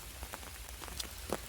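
Rain patters steadily on leaves and the forest floor in autumn woods during a mushroom hunt, soft and continuous, with a few closer drops standing out.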